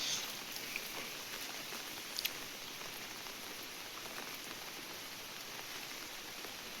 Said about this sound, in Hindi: तारपरे वर्षा टिके झिम झिम झिम झिम बरसुचे